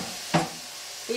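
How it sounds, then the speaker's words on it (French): Ingredients for a cardoon gratin are mixed by hand in a dish, giving two brief close scraping strokes separated by a short quiet pause. "Et vous mélangez tout ça."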